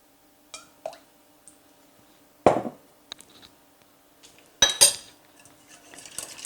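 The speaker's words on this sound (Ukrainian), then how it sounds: "Знов перемішуємо." A utensil clinks and scrapes against a bowl while stirring garlic bun dough with olive oil in a few separate bursts, with soft wet stirring sounds between quiet pauses.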